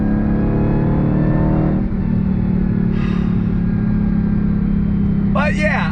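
The supercharged engine of a 2022 Dodge Challenger Hellcat Jailbreak roars steadily under throttle from inside the car, a loud, constant low rumble, while a person talks briefly over it.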